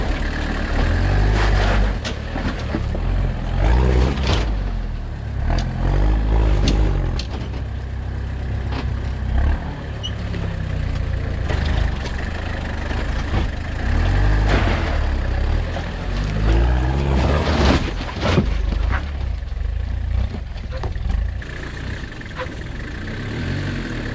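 A Gen 1 Toyota 4Runner engine growls loudly and continuously as the truck crawls in first gear low range over rough ground, the revs rising and falling while bumps and knocks punctuate the steady drone.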